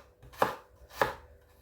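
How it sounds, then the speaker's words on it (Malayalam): Two crisp knife chops through an onion on a cutting board, close and spaced about half a second apart, each a sharp thud with no voices. "ഇങ്ങനെ സവാള അരിഞ്ഞിട്ട് കുറച്ച് മുളക് പൊടിയും കൂടി ഇട്ടിട്ട്"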